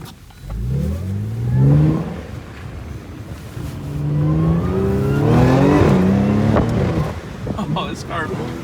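Audi S4 B8.5 fitted with AWE non-resonated downpipes, revving in loud, rising and falling bursts with harmonic engine tones, close by, under mixed talk.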